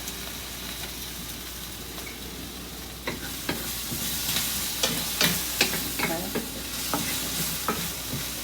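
Chicken pieces fry in a pan for fajitas, a steady soft sizzle with sharper crackles and scraping stirs growing busier partway through, heard close; one brief spoken word.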